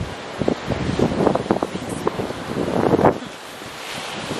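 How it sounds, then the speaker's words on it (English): Ocean waves wash onto a Bermuda shoreline in a steady, breaking rush, with gusts of wind buffeting the microphone and no talk. "The sounds of the ocean."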